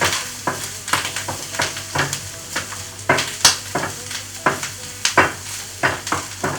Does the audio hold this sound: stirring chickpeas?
yes